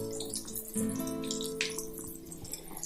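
Cassava cheese sticks frying in hot oil, giving a steady crackling, bubbling sizzle at moderate level throughout, with no talking.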